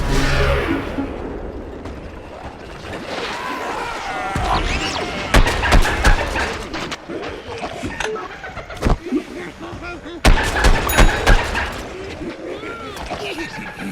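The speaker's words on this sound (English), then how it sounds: "scientist just threw his sticky explodey ball. It'll stick to the world, it'll also stick to enemies before exploding" In Plants vs. Zombies: Garden Warfare, a sticky explosive ball bursts with several sharp, loud blasts scattered among whooshes and other busy game noise.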